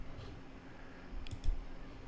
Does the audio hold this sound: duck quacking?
no